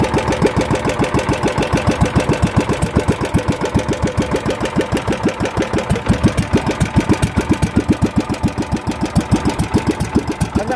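A 19-horsepower engine on a wooden bangka boat, running loud and close with a fast, even chugging pulse that holds steady throughout, no voices over it.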